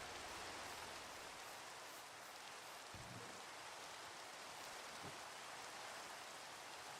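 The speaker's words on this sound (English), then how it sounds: "Sounds like it's day, but it's raining" Steady rain in the video game Minecraft hisses softly and evenly throughout, with a couple of faint low thumps and no voices.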